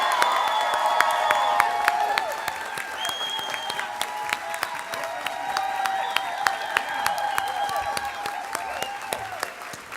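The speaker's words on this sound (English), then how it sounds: "Can we just have a huge round of applause for Suva Tai?" Conference audience at an opening ceremony breaks into sustained applause with some cheering and whistles, a dense, steady wash of clapping lasting throughout.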